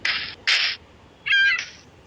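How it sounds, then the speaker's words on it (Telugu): A character walks on sand in the blocky game Mini Block Craft 2, giving short crunchy footstep bursts: two quick steps, a pause, then a longer scuffing step. "శాండ్ కాబట్టి సౌండ్ వచ్చేస్తుంది గైస్."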